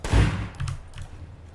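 A single firearm shot rings out in the survival game SCUM, a booming blast with a low rumbling tail and a faint echo fading afterward.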